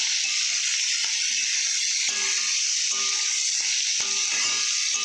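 Taro (kachu) leaves frying lightly in a pan, a loud, dense, continuous hiss of sizzling oil with small clicks and crackles scattered through.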